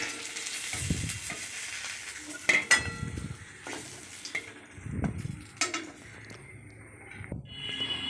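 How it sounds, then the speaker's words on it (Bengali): Whole cumin seeds and a dried chilli tempering in hot oil, a soft sizzle broken by sharp crackles and utensil knocks, with brief muffled thumps, close and fairly quiet. "আর আমি ওই তেলে গোটা জিরে ফোড়ন দিয়ে দিলাম, শুকনো লঙ্কা একটা দিয়ে দিলাম"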